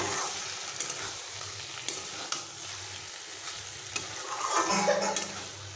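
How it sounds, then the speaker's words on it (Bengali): Bottle gourd cooks with mustard in a pan without added water, a soft steady sizzle under repeated spatula scrapes and occasional knocks, swelling briefly near the end, close and without voices. "সর্ষে দেবার পরেও একটুক্ষণ কষিয়ে নেব।"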